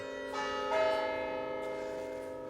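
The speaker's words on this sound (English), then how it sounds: "That was nice of him to decide to ring the bells for us." Church bells ring out in the old Devon town of Totnes, a sustained, resonant peal of overlapping strikes swelling and lingering at moderate distance with no talking.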